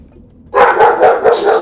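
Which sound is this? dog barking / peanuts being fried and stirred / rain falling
dog barking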